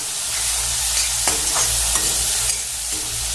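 Garlic sizzles in hot oil in a pan for an egg curry while a spatula scrapes and stirs it, a constant close frying hiss broken by a few distinct scraping strokes, with no one talking.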